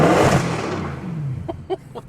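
Mercedes C63 AMG with an aftermarket F exhaust revving hard, a loud echoing roar that decays over about a second, followed by a few short bursts or crackles.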